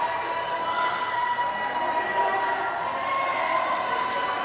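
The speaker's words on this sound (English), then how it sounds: "as the crowd here in Newport, Tennessee comes alive" A wrestling crowd cheers inside a sweltering Newport, Tennessee armory during an NWA Krossfire match, a steady roar of voices and shouts in a large room with no clear peaks.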